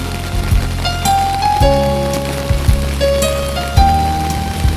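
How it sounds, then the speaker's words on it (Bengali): Heavy rain pours over a railway yard, a steady broadband wash with close drips and splashes, punctuated by low rumbling thumps and long drawn-out tonal squeals like rolling stock or metal machinery nearby. "দেখো বৃষ্টিতে পুরো অবস্থা দেখো।"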